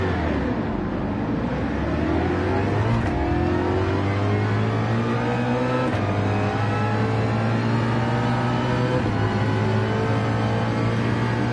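Race car engine in Gran Turismo 7 at Laguna Seca, loud and close, revving up repeatedly through gear changes with rising whining tones that drop at each shift, continuous throughout without any speech.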